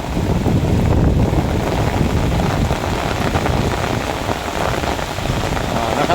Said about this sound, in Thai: ตอนนี้ฝนกำลัง ตกอย่างแรงนะครับตอนนี้